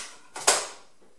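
The lid of a Cecotec Mambo 12090 Habana kitchen robot clicks into its locked position: two quick plastic snaps close together, the second sharper and louder, then quiet.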